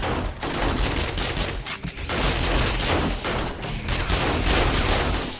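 Sustained gunfire during a horde night in 7 Days to Die with the Outback Roadies mod, dense rapid shots overlapping into a continuous loud barrage with brief dips and no clear talking.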